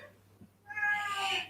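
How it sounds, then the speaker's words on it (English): A cat meows once, a drawn-out, fairly faint cry rising in the second half, heard indoors during a live-streamed yoga class with a quiet hum beneath and no talk. "There's a kitty."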